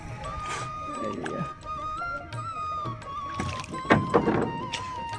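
A fishing boat moves on the Jamuna river with soft splashes and wooden creaks, a faint steady engine-like hum in the background and a few quiet voices nearby.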